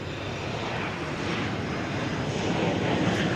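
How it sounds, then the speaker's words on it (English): A United airliner on Flight 1565 from Denver comes in at DFW Airport after dark, its engines a steady, broad roar that swells slightly toward the end, heard alone without voices. "United Flight 1565 from Denver is coming in."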